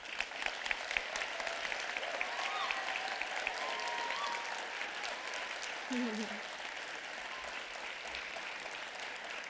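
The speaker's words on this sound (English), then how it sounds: "So I would love to give them another huge round of applause for their accomplishments" A school learning celebration audience gives a round of applause for students, a soft, distant wash of clapping with murmured voices and a faint spoken tone underneath, fairly constant throughout.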